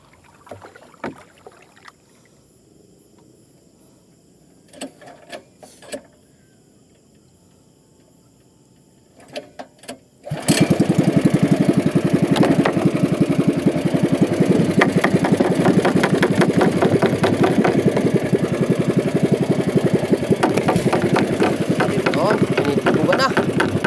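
A small boat's motor starts up after about ten seconds of quiet with a few clanks, then runs steadily and loudly at close range to the end, while voices talk faintly over the water.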